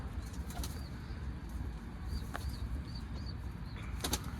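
Young pigeons flutter as they are let out to feed, with a few soft wing-flap bursts over steady outdoor background noise and faint chirps.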